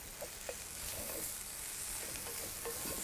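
Oats are stirred with butter and softened root vegetables in a pan for celeriac porridge, giving a quiet, steady scraping and soft sizzle with no one speaking.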